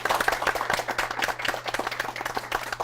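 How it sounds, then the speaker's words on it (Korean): Audience applause for a guest at the close of a career-mentoring broadcast, a dense steady patter of many hands clapping at moderate level throughout, with no talk over it. "오늘 수고하신 게스트분께 박수 부탁드리겠습니다"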